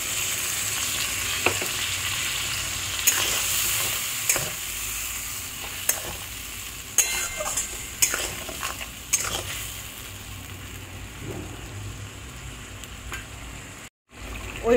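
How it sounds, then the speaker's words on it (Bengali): Poppy seed and green chili paste hits fried pointed gourd in a pan, giving a loud, close, continuous sizzle with repeated sharp scrapes and clacks of stirring, and a brief drop near the end. "এবার ওই পোস্ত বাটাটা দিয়ে দেবো এর মধ্যে।"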